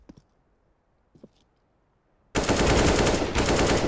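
Gunfire in Counter-Strike: Global Offensive, a couple of faint shots or clicks followed by a loud, sustained rapid burst of automatic fire close up, with no voices.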